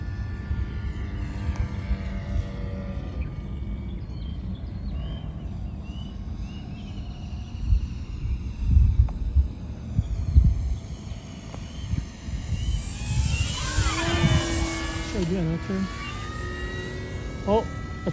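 An FMS P-47 Razorback 1500mm RC warbird comes in for an emergency landing on a single landing gear, its motor droning steadily before a rising whine near the end, with voices talking over it.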